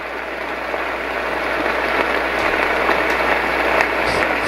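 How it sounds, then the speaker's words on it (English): A Roffie white noise sound machine plays its steady rainfall setting, a dense, even hiss of simulated rain with faint patter that holds constant throughout. "this one's supposed to simulate rainfall, like a nice steady rain"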